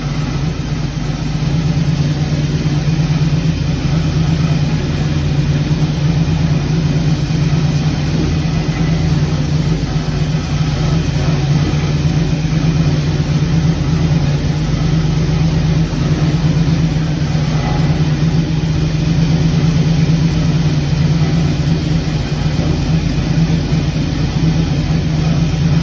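The engine of a 1938 Pontiac idles steadily with a loud, even low hum and no talk while the timing is being adjusted.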